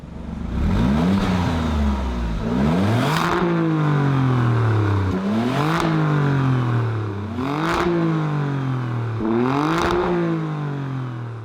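An Alfa Romeo Stelvio Quadrifoglio SUV engine, 503bhp, revs repeatedly, about five rising-and-falling bursts, each climbing sharply in pitch then dropping back, loud and close with no talking.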